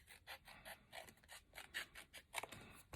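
Scissors snip through paper for an explosion box in a quick run of short, faint, close cuts with a rasping edge, the last few sharper and louder.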